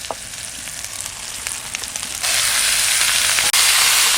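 Country chicken meat sizzles loudly as it fries in a ground cumin and green chili spice paste, a steady crackling hiss that swells louder partway through and briefly dips near the end, with no talking.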